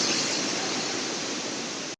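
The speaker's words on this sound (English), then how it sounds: "the water's coming off the falls pretty good" Water at Detian waterfall crashes down in a steady, dense roar, loud and close, continuing unbroken until it cuts off abruptly; no voices.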